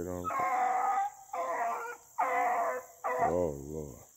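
A beagle hound at a rabbit dog field trial bays in four long, drawn-out howls separated by short pauses, loud and close, ending in a wavering howl.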